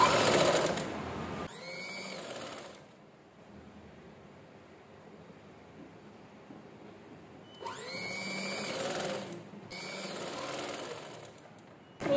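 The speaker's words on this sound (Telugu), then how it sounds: "బ్యాక్ సైడ్కి రివర్స్ చేసుకొని దీని మీద ఒక స్టిచ్ వేయాలి." A sewing machine stitches the neckline of a boat neck frock, running in steady whirring bursts of a second or two separated by quiet pauses, close and moderately loud.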